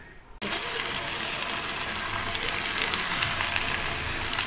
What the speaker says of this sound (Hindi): तो अब मैं इसे फ्राई करती हूँ